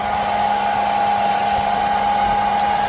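Hair dryer blowing on a car badge gel overlay to dry and warm it, a loud, steady close whine with an even airy hum throughout and no talking.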